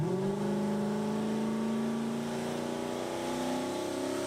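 Drag race car roaring at full throttle down the strip after launching and lifting into a wheelie, a loud continuous engine howl with rising pitch as it accelerates, heard alone.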